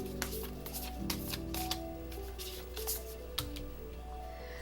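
Tarot cards shuffled and drawn by hand at a reading, a soft papery riffle with several crisp snaps as cards are pulled, over a steady low hum.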